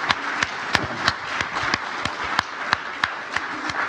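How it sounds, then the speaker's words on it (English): Slow, evenly spaced clapping from a university lecture audience, sparse and steady like a small group applauding, about three claps per second. "An applause."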